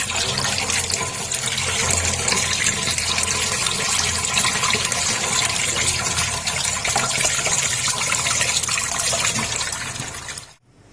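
Water runs and splashes steadily as mangoes are washed for chutney in a kitchen, a continuous close gush that stops abruptly at the end.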